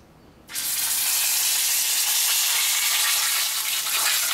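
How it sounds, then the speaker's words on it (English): A thick cote de boeuf steak hits a very hot skillet with a sudden loud sizzle that jumps in and holds as a steady, bright, hissing sear for several seconds, close and without talk. "Now we're gonna scoop up our steak and put it in our skillet."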